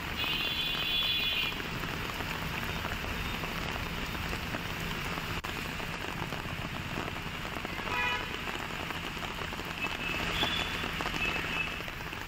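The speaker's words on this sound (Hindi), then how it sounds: "झमाझम बारिश होने से जहां मौसम खुशनुमा हो गया" Heavy evening rain in Chhattisgarh, India, a dense continuous hiss of downpour drumming on surfaces, steady and close throughout with no voices.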